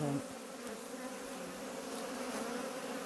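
A honey bee colony hums and buzzes continuously as it is moved from an apiary hive into a better box, a dense, steady drone close by with no voices.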